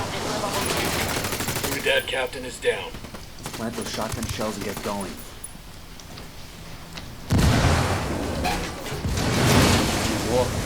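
Rapid bursts of gunfire and explosions from a Tom Clancy game crackle throughout during a raid on a military camp, with people talking excitedly over the noise and a louder barrage near the end.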